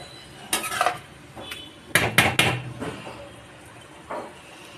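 A spiced fish curry stirred in a metal pot, with garam masala just added: scattered scraping clanks of the spoon against the pot, a quick cluster of three knocks in the middle, then a lone clink, close and fairly loud with no talking.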